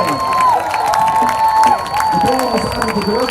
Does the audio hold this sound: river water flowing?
no